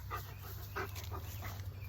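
A dog making soft whimpering and short barking sounds, a few faint rhythmic vocal bursts over a steady low background hum, no talking.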